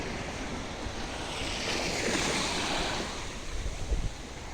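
Sea waves wash onto a beach with fishing boats waiting nearby. The surf gives a steady broadband hiss that swells gently midway, with some wind buffeting the microphone and no talking.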